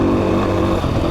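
A Beta 500 RR-S motorcycle rides along a road. Its engine drone is loud and steady at close range.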